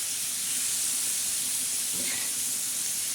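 Potatoes, onion, capsicum and brinjal fry on a hot tawa with a steady, even sizzling hiss. A brief stirring scrape cuts in near the end.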